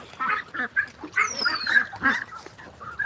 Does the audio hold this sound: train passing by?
no